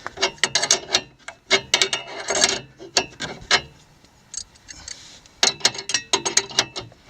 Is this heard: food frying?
no